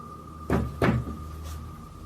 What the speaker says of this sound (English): And the knocking gets louder.